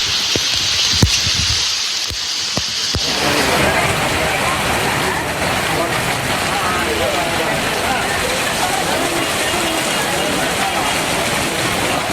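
Sudden rain falling near Hosur in the Bagalur area of Tamil Nadu, a steady dense hiss of rainfall that swells after a few seconds and continues unbroken and loud to the end.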